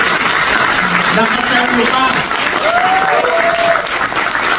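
Audience applauding a health official's talk on a universal healthcare program, steady clapping across the whole clip with someone speaking over it.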